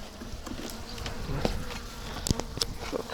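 Honey bees buzz around hive frames of honey, with dense close insect droning and a few sharp knocks and taps from handling the frames outdoors on a cold day.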